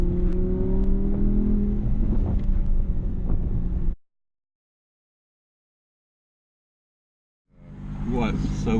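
Loud, up-close engine noise from a 2016 Audi R8 V10 Plus comes through with some wind buffeting, then cuts abruptly to total silence before the roar returns.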